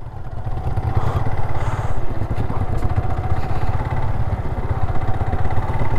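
A motorcycle engine idles steadily nearby on a Bengaluru to Ladakh road trip, a loud, even low rumble with a rapid pulsing beat throughout.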